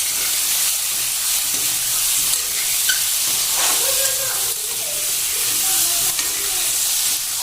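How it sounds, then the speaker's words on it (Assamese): Boiled home-grown potatoes frying in a pan give a steady, close sizzle and hiss, with occasional stirring scrapes throughout. "এনেকৈ মই আলুখিনি ফ্ৰাই কৰি লওঁ"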